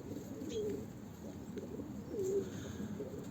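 Pigeons in a breeding loft give two soft, low coos a couple of seconds apart against quiet indoor room noise, with no voices.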